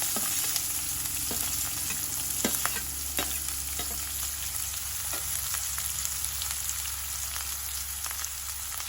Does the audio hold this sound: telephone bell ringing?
no